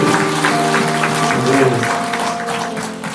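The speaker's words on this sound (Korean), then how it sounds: "우리를 향해서 임재하시고 또 새롭게 하시고 역사하실 성령 하나님께 우리 영광의 박수를 드리겠습니다." Congregation applauds at a worship concert, a continuous wash of clapping that sits under sustained tonal music or voices, loud and steady before fading slightly toward the end.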